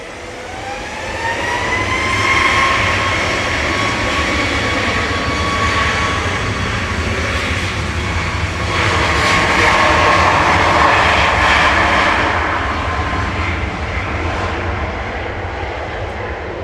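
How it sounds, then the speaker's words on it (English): Ryanair passenger jet touching down at Manchester Airport from Alicante, a loud, steady engine roar with a rising whine that swells and holds for over ten seconds, heard from nearby with no talk. "Ryanair touching down from Alicante."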